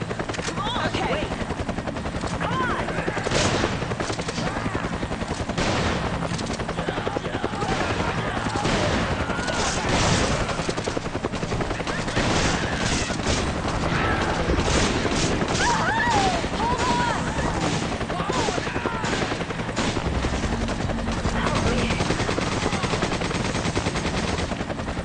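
Dense bursts of automatic gunfire and booms crackle continuously under a helicopter-like drone, with voices talking over the chaotic battle noise in a Resident Evil 5 Versus team survivors match.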